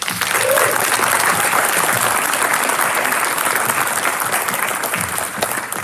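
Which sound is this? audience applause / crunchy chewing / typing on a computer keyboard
audience applause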